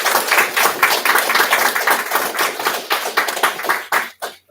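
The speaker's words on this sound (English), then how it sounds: "if everybody can actually join me for a round of applause for our parents" Round of applause from a crowd at a city council meeting, dense steady clapping that fills the room for several seconds before breaking off into a few scattered final claps.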